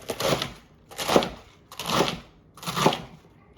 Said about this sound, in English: I'm gonna cut that up about 1 inch or 2.